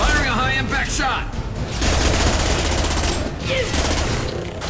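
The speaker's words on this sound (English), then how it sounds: "Firing a high-impact shot!" High-impact weapon fire in the sci-fi shooter game Mass Effect 2: loud, dense bursts of gunfire and impacts over a continuous battle din, with rapid repeated shots.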